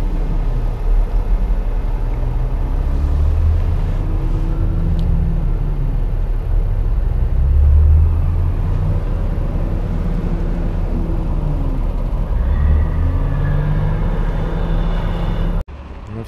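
A loaded KamAZ truck drives off toward a gas station from a country plot, its deep diesel engine rumbling loud and steady throughout, then cutting off abruptly near the end.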